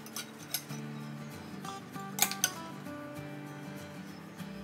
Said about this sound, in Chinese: 好，我们摆盘咯。